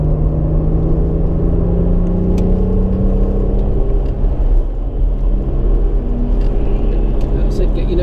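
A Brera car on the Anglesey race circuit drones steadily as its engine pulls and accelerates, with a constant low rumble and whirring tone beneath an instructor's voice talking through the drive.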